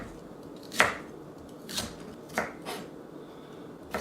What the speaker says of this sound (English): So just slice up the kohlrabi.